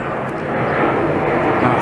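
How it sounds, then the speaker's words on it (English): A large Air Canada passenger plane in its new livery passes over a Montreal street, giving a steady, broad roar that swells slightly and holds throughout without any talk. "the big plane on the landing pad"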